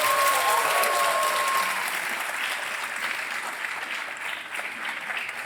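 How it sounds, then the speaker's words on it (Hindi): Sustained studio audience applause on the quiz show Kaun Banega Crorepati, steady dense clapping from a crowd at moderate volume that gradually tapers, with a brief tonal tone early on. "तालियां बजती रहें इनके लिए।"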